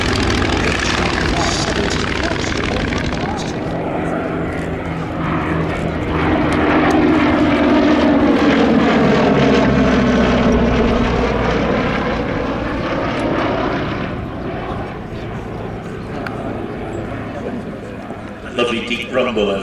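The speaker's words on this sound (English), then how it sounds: "rumble of the Mercury engine up front on the Lysander" A Westland Lysander with a Bristol Mercury radial engine flies past at a vintage airshow, its loud propeller drone and deep rumble swelling as it nears, shifting in pitch as it passes, then easing slightly away.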